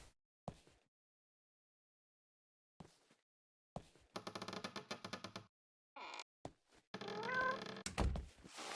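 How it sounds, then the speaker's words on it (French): Cat sounds in the game Clink: short thumps and clicks break long silences, then bursts of buzzy, layered game noise, with a brief meow-like cry near the end. "c'est le chat"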